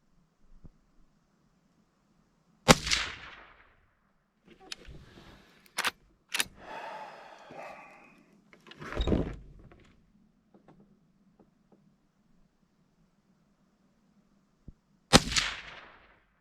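Two loud, sharp reports from a Henry Classic lever-action .22 Magnum rifle firing Remington ammunition outdoors, one near the start and another after a long pause, with fainter clicks and knocks of the lever action cycling in between.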